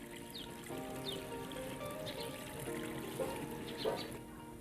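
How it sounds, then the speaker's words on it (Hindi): Water pours into a pressure cooker already holding beef and spices for nihari, a steady trickling and splashing stream that runs throughout with no talk over it. "इसमें हम 2 केजी पानी ऐड करेंगे।"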